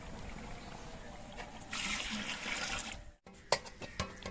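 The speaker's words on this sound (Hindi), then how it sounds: "अब जी डालने लगे हैं पानी" Water pours into a cooking pot of fried spices, a broad splashing gush lasting a couple of seconds, then a brief pause and a few clanks, with no talk.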